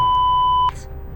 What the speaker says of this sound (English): Obscenities were covered by another beep.